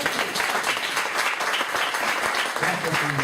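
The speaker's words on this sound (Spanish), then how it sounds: "¿Le damos un aplauso a Cristo?" A church congregation claps together in a steady, dense wash of applause that fills the hall, with voices mixed in beneath it.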